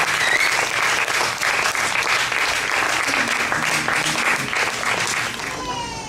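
Loud, sustained applause from an audience at a Soundjata stage performance in Benin, greeting the new king with steady, dense clapping that tapers slightly at the end.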